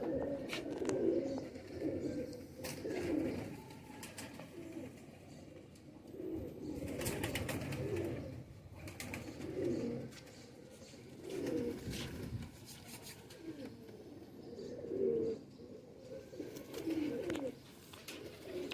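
Soft, low cooing of Sialkoti breed pigeons repeats in rolling phrases, several birds close by, with faint rustling and small clicks between the calls.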